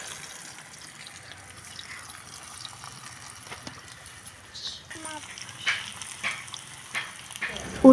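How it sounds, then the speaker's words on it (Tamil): Potatoes fry in a pan with a faint, low sizzle at first, then sharper stirring scrapes and clatters grow louder toward the end, close by. "உருளைக்கிழங்கு வறுத்துட்ருக்கோம்"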